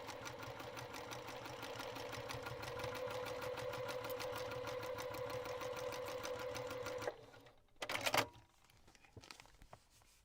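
A sewing machine stitching fabric runs in a steady, fast mechanical whir for about seven seconds, then stops, followed by a short rustle and a few quiet handling noises.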